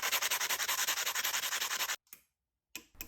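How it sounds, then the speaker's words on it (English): Sanding the edge of a scrap metal part for a sculpture: a loud, steady back-and-forth rasp with quick, even strokes for about two seconds, then silence and a short final rub. "I had to sand down the edge a little so the part would fit"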